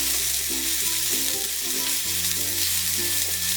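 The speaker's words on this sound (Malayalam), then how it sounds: "ഇനി ഈ ചട്ടിയിലേക്ക് എടുത്തു വെച്ചിരിക്കുന്ന ജിഞ്ചർ ഗാർലിക് പേസ്റ്റ് ഇട്ടൊന്ന് ഇളക്കി കൊടുക്കാം" Ginger garlic paste sizzles in a hot frying pan, a dense continuous hiss, with a spoon stirring through it in repeated scraping strokes close by.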